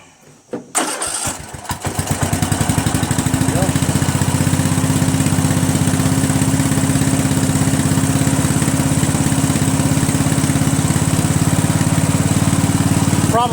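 A Craftsman 13.5 mid rear engine riding mower cranks and catches after a brief start attempt, then settles into a loud, steady close-up idle that keeps running without shutting off, with someone speaking briefly over it.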